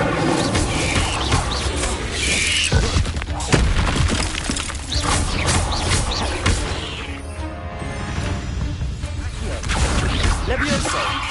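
Incendio fire spells cast in combat in Hogwarts Legacy, a series of whooshing blasts and booms with crackling bursts and clattering impacts, close and loud over a busy game soundscape.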